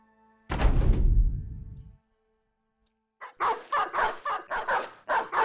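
Several dogs bark and yip in a fantasy battle in the video game Battle Brothers, one heavy burst of barking followed after a pause by a rapid string of sharp barks, loud and close, with no talk.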